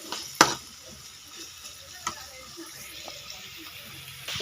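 Onions for egg curry fry quietly in a pan with a soft, faint sizzle, broken by a few sharp stirring clicks and scrapes.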